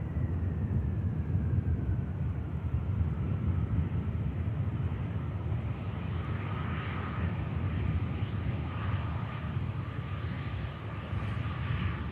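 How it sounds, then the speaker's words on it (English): Lufthansa Airbus A380 on approach into Manchester from Frankfurt, a steady broad jet roar with a faint whine sliding slowly downward, sustained and fairly distant throughout. "Lufthansa Airbus A380 coming in from Frankfurt in Germany."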